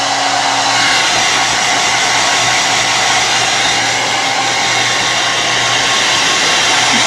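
A hair dryer blows steadily and loudly on a wet dog, a continuous close-up roar holding at an even pitch throughout with no talk.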